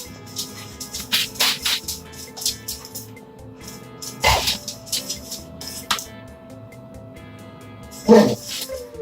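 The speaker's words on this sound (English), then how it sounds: "It looks like the dog wants some too." A dog barks and whines near a family meal of tater tot casserole, with several short yaps and two louder bursts amid soft household background noise.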